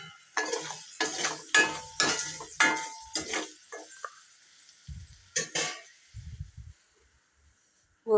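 A spoon stirring salt and turmeric into cooked food in a metal pot, with a run of sharp scraping clinks against the vessel followed by a few softer taps and pauses.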